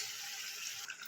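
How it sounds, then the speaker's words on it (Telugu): Tamarind juice pours steadily into a pot of cooking country-chicken curry, giving a soft continuous watery stream that is faint and close, with no voices. "ఇట్లా ఉడికిన తర్వాత ఇప్పుడు చింతపండు పులుసు పోసుకున్నాం."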